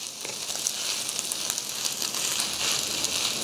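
Fried rice with chadol sizzles and crackles as it crisps into a crust in a hot stone pot, a steady dense hiss with small pops throughout, close and continuous.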